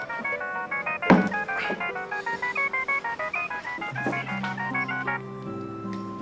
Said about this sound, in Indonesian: Telepon nih.